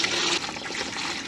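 Warm water gushes and splashes out steadily, a loud close rushing flow with a slight dip partway through, with no voices over it.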